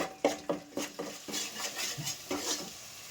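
A spoon stirs fish curry made with murrel fish in a metal pan, giving close, rhythmic scraping and clinking strokes about every half second with a faint sizzle underneath.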